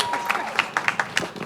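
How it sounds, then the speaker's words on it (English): Applause from a gathered crowd at a mural unveiling, with scattered individual claps standing out sharply over a softer bed of clapping and faint background voices. "Round of applause for her."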